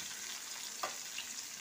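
Sliced onion, garlic and ginger sizzle steadily in hot oil in a pan, a soft, even crackle with one small pop partway through.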